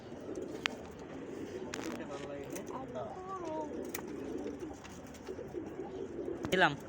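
Pigeons coo softly in low, gurgling calls while a voice talks quietly in the background.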